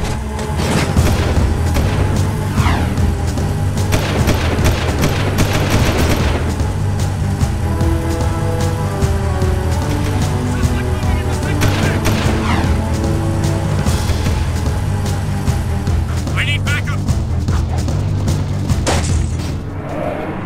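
Gunfire in the video game Jak II rolls through a loud, dense game soundscape of steady booming and mechanical rumble, with repeated sharp shot transients scattered across the stretch and no voices.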